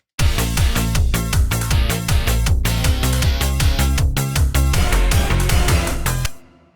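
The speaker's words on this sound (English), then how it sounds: "it's not a true 90s Eurobeat song if you don't have the obligatory instrumental section" A 90s-style Eurobeat instrumental section, a song recreation built in FL Studio: a loud, steady four-on-the-floor beat drives layered synth lines and bass without a break, then cuts off suddenly near the end.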